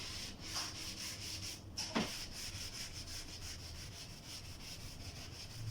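Something rubs steadily across a classroom board, erasing writing in a series of soft, rhythmic scrubbing strokes, faint and close, with no talking.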